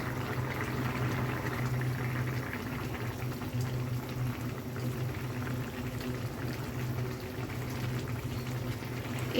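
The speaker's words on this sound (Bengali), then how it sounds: "মাছগুলো দিয়ে দুই তিন মিনিট জাল করলেই হচ্ছে হয়ে যাবে" Hilsa fish and water lily stems in a thin curry bubbling in a pot, a steady close-up burble of boiling liquid that runs evenly throughout with no voices.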